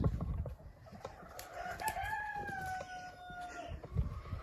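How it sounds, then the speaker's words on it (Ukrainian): A rooster crows loudly up close, a long wavering call, amid scattered clucks and flapping scuffles from roosters fighting. "півні б'ються"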